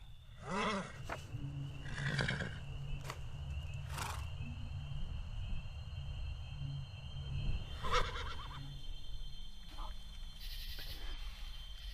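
A horse whinnies several times from a short film, with a few separate calls spread across the stretch over steady background noise and low rumbling.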